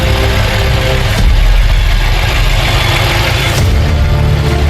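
A BMW M5 engine settling into a loud, close idle just after starting, a deep steady rumble with a brief rise in revs partway through and no talk.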